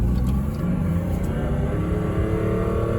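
A 1997 Mercedes E300 Diesel accelerates from inside the cabin, its deep droning engine rumble steady and loud, with pitch sliding slightly as it pulls through a gear change.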